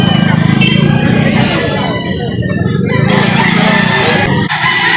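A labuyo, a red junglefowl rooster, crows at a fowl market in Lipa, Batangas, with two long crowing calls close by and loud, under steady chatter from people talking nearby.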